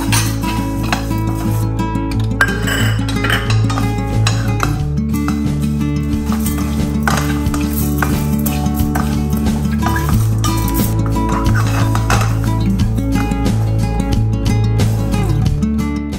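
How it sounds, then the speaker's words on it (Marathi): Coriander seeds dry-roasting in a pan for chakali spice mix, with a ladle stirring and tapping: repeated light clinks and scrapes against the metal over a steady low hum, close and continuous. "आता यानंतर मी धणे हलकेसे भाजून घेते."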